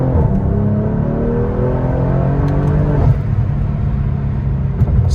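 A Genesis G70 3.3 twin-turbo or Kia Stinger GT accelerates hard from second gear at about 25 mph, with a close, loud engine drone climbing steadily in pitch before a sudden shift near the midpoint.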